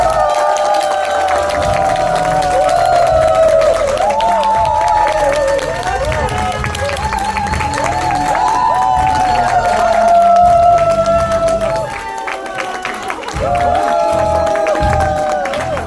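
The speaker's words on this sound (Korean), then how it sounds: "큰 박수로 모시겠습니다" Audience applause and cheering at a Korean health seminar as a doctor is welcomed to the stage, a steady crowd roar over tonal music for about sixteen seconds, dipping briefly near the end.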